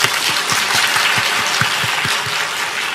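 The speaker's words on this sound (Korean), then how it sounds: "수고 많으셨다고. 박수 한번 쳐드려요." A church congregation applauds the choir after an Easter Sunday service, giving sustained, even clapping that fills the room with no talk over it.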